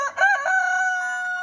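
A rooster in a rural village gives one close, clear crow that rises and then holds a long, drawn-out note.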